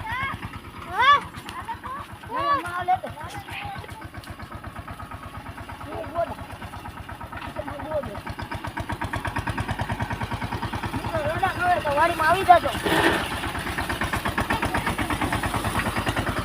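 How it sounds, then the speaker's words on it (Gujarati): A farm tractor's engine chugs steadily in a low, rhythmic putter on the way to the fields, while people talk over it. "લાલજીભાઈ તો આગળ આગળ ટ્રેક્ટર લઈને જાય છે"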